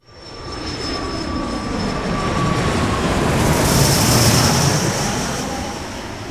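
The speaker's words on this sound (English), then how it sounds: "Let's put Newton on a jet" A jet aircraft engine roars loudly and steadily, swelling toward the middle, with a high whine running above the broad rushing noise and no voices.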